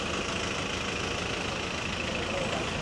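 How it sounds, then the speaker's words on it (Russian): Taxis idle and edge past one another in congested Istanbul street traffic, a steady, close engine rumble with a constant wash of surrounding street noise. "Тут такси пытаются разъехаться"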